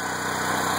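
A small engine running on wood gasifier gas, a steady close idling drone with an even buzzing pulse, loud and unbroken for the whole moment.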